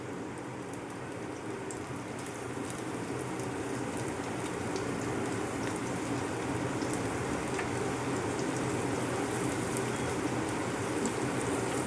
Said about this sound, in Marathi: आता त्या कढईमध्ये मी तेलामध्ये कांदा टाकून घेणार आहे, जो आपण बारीक चिरला होता